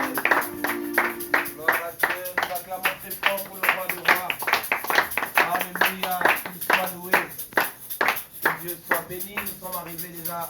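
A church congregation claps in a lively, steady rhythm, with many hands striking together at a brisk pace and voices rising among them.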